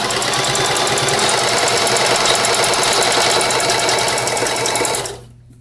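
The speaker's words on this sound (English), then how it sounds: "I'm sewing on the top of this ribbon of blue because I'm doing actually a single stitch" A sewing machine runs steadily, stitching a blue ribbon onto fringe with a single stitch. The whirring is loud and continuous for about five seconds and then stops abruptly.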